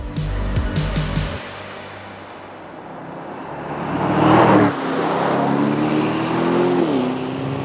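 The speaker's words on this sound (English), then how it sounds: "Let's see how the DB12 drives." A 2023 Aston Martin DB12 on the road: the engine drones, then surges into a louder roar at mid-clip before settling into a steady cruising hum.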